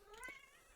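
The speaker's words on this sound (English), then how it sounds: "So you might hear a cat meowing." A cat gives one short, faint meow with a rising then falling pitch, heard alone at a distance.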